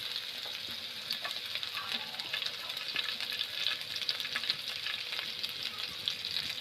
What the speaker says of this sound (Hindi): तापर कच्चा मिर्चा के पकेदेमा।